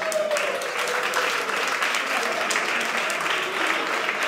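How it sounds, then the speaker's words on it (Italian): Crowd at an amateur MMA trials event applauding before the only women's bout of the day, continuous clapping from many hands with a few louder individual claps and faint voices mixed in. "Facciamo un caloroso applauso perché sarà l'unico match che vedrà donne"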